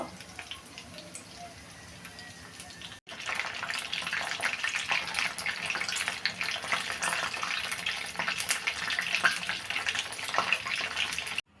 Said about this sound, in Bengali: এবার সব মাংস এক এক করে এভাবে ভেজে নিব।